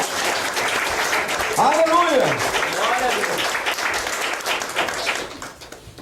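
A church congregation breaks into sustained applause, dense clapping filling the space while a voice calls out over it, the clapping thinning toward the end.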